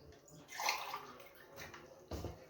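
Water is poured from a cup into a bowl of flour and sugar while making Egyptian ice cream, a soft, close splashing and trickle lasting a couple of seconds.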